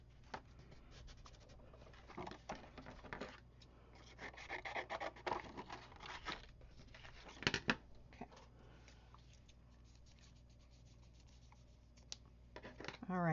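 Extra material being trimmed off along one edge in a quilting flower-block tutorial: soft rasping, scratchy cutting strokes in irregular bursts, close and fairly quiet, with a few louder scrapes midway.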